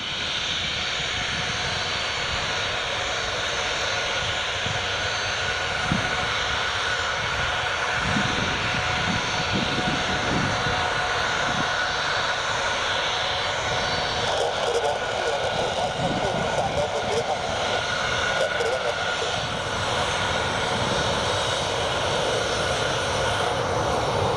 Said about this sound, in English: One of our viewers is on that aircraft heading to Dalaman.